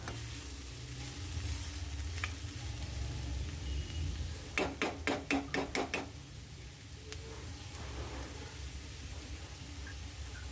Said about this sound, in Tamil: பாவக்காய் வெங்காயம் ரெண்டும் நல்லா மிக்ஸ் ஆகணும் அந்தளவுக்கு நல்லா கிளறி விட்டுக்கோங்க